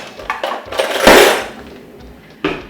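A spoon clattering against a mixing bowl while plantain cake batter is mixed, a few light knocks followed by one louder scraping clatter and a final tap, close by.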